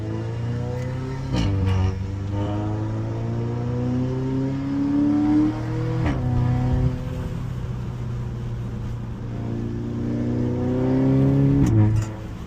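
Modified Audi RS3 fitted with a downpipe exhaust in dynamic mode with traction off, pulling hard through the gears; engine note rises repeatedly, broken by brief shift gaps and crackles, loud and close from inside the car.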